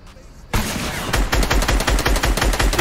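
Rapid bursts of gunfire from the Fortnite battle royale video game start abruptly after a brief quiet moment, then continue as a loud string of sharp shots. No voices are heard over them.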